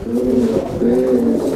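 Ring-necked pigeons coo close by, giving two soft, low, rounded phrases in quick succession with no talking.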